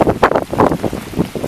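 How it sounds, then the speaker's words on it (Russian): Heavy hail pelts down hard and close at a pond in Poteryaevka, making a dense, rough pattering roar with rapid uneven bursts and no voices. "Какой град идет сильный по Теряевке."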